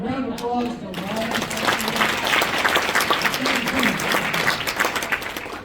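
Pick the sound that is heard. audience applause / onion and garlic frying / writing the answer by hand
audience applause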